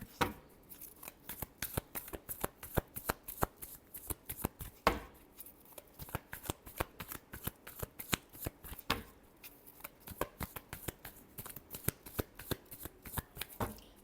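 Tarot cards being shuffled by hand, a steady run of quick crisp riffling snaps close up, continuing alone for the whole stretch with no voice over it.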